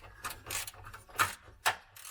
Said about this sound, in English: there's some grindy noises going on here